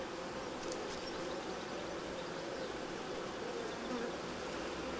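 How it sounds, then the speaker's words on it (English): Honeybees buzz steadily around an open hive during a routine colony inspection, a dense, continuous droning swarm close by with a few brief clicks near the start. "So those are the male bees."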